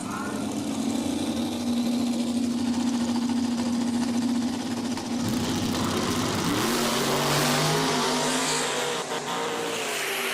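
A twin-turbo big-block drag race car roars down the strip at a drag racing event, a loud sustained engine drone that shifts pitch midway as it accelerates, with crowd and track noise around it.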